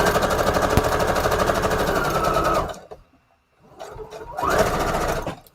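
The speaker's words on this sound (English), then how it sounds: "Let me just stitch all the way around the card" A sewing machine stitches around a junk journal card in fast, loud mechanical bursts: a long continuous run, a brief pause, then a shorter second run, with no talking.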